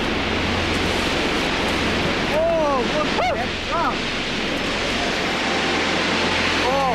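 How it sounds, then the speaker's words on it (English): The Tsangpo River pouring down a waterfall in a steep gorge, a loud, continuous broadband roar of rushing water with wind, while someone talks excitedly over it. "in the distance, they hear the river falling"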